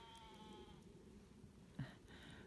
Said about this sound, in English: Can you hear this goat that's talking in the distance